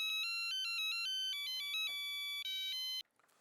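Telephone ringtone playing a bright electronic melody of repeated beeping tones for about three seconds, fairly faint and alone, then cutting off abruptly.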